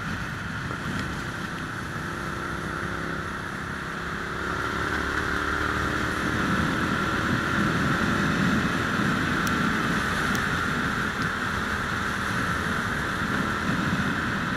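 A Yamaha XSR 700 motorcycle engine and exhaust drone steadily while riding, a low continuous rumble under wind noise that swells slightly partway through.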